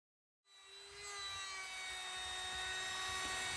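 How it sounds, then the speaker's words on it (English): A Makita router starts up and runs with a steady high whine, close and loud, routing an edge along a pine board for skirting after a moment of silence. "Mr. Refurby's got his Makita routing tool and he routed out an edge on the pine board that we had"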